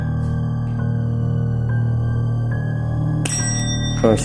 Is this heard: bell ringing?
yes